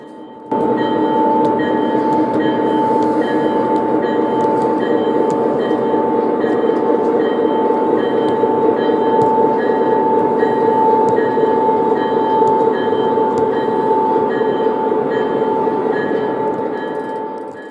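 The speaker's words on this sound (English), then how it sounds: "Now we're going to take the string of center flow hopper cars loaded with raw grain to be milled into flour and put it into the Cargill granary siding." An O gauge model train hauling a string of center flow hopper cars, a loud, continuous mechanical hum and rumble with a steady whine, close by and sustained, fading slightly at the end.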